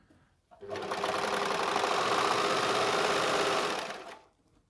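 Baby Lock Enspire EX overlocker running in normal overlocking mode, a loud, steady mechanical hum and rapid chatter lasting about three and a half seconds, starting and stopping cleanly.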